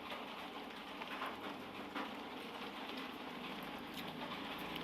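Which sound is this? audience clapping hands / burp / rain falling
rain falling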